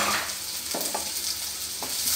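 Small onions and dried red chillies frying in sesame oil, a brief close hiss of sizzling oil with a few soft pops and stirring taps.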